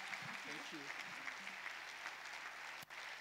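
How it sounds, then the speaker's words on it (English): A church congregation applauds during a Sunday service, a steady wash of many hands clapping at moderate distance, with a voice speaking briefly over it at the start. "Please let's clap our hands"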